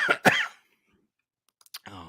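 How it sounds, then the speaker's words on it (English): Two sharp, close coughs in quick succession, then silence, a few faint clicks and the start of speech. "I've had this cough since early December"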